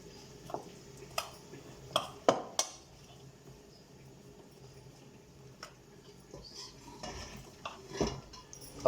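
A spoon clinks and scrapes against a bowl as pakora batter with spices is mixed, giving sporadic sharp taps and knocks between quieter stirring, with a faint background hum.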